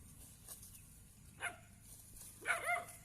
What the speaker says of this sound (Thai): หมาเห่างัวนะครับทุกคน